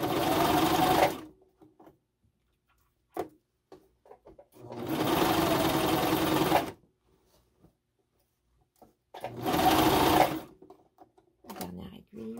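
Sewing machine stitching knit fabric for a two-piece pyjama, running in three loud sustained bursts of about two seconds each, with brief quiet pauses and faint handling noises between them.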